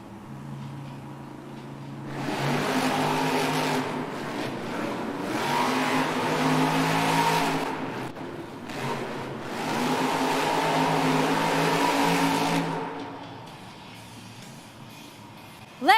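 Monster trucks racing at a Monster Jam event, big engines roaring and revving in long surging waves that rise and fall, heard from a distance across the arena.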